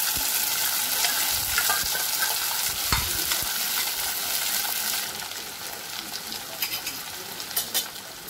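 Chopped potato and cluster beans stir-frying in a pan give a loud, dense sizzle with scraping stir strokes that eases into softer crackles and taps toward the end. No talking.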